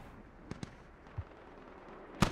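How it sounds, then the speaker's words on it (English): Smoke mortar rounds fired in the military shooter game Squad: a few muffled, distant thumps early on, then two louder, closer booms near the end, over low background rumble. "I think militia are adding smoke mortars."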